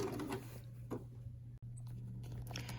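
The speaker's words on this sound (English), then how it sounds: "I'm coming to the end of my stitching here" A sewing machine stitches a band onto the brim of a surgeon's cap, a quiet steady mechanical hum with a brief stop and faint clicks as the fabric is fed.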